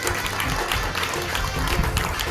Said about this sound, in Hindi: वे विकास जी अवस्थी का स्वागत करें, जोरदार तालियों से स्वागत करें